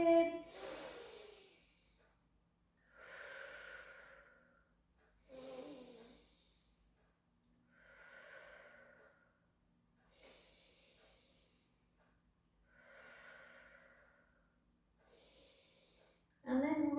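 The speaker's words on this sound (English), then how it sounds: "Again, a breath in." A person breathing slowly through a Pilates stretch: six soft, drawn-out breaths at an even pace, each rising and fading over a couple of seconds, close and fairly quiet, with a brief snort-like sound at the start and end.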